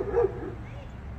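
A police dog lets out a single brief bark at the start, then steady outdoor background hum follows.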